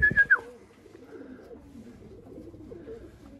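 Pigeons coo on a rooftop, a brief louder call at the start followed by soft, low, rolling coos that continue faintly and nearby.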